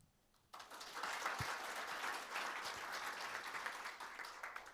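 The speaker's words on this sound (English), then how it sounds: "So ladies and gentlemen, please welcome with a round of applause." Audience applause greets the session moderator at a conference, starting abruptly after a brief quiet moment and then continuing as steady, fairly full clapping from a seated crowd.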